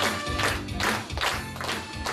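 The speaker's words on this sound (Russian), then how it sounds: "проводим аплодисментами на старейший хор" A concert audience applauds an elderly choir, a dense wash of clapping that rises and falls in waves throughout.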